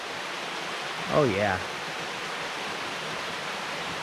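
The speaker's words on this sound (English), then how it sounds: "Beecher Cascade is not disappointing. That is much nicer. Good water flow." Beecher Cascade waterfall in Crawford Notch gives off a steady broadband rush of flowing water, constant and fairly close, with one brief spoken exclamation over it partway through.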